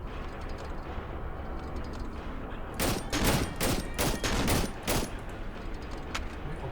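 Video game gunfire from the horror game Cry of Fear, a rapid burst of loud cracking shots that lasts about two seconds over a steady background hum, with no speech.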